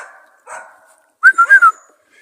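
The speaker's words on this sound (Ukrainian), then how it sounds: "Дикі собаки бігають, гавкають." Wild dogs bark outdoors in a short burst of four quick, fairly loud yips, with a few fainter yelps before it.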